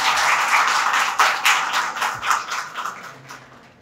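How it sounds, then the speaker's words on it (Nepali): Audience at a book launch event in Baglung, Nepal, gives loud sustained applause welcoming a speaker to the stage, dense clapping that thins out toward the end. "जोरदार तालीले स्वागत गरौँ।"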